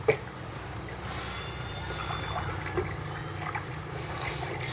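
A small boat crosses floodwater around a flooded house, with soft water sloshing and splashing, a faint low rumble, a few light knocks and brief bursts of water noise, fairly quiet and continuous.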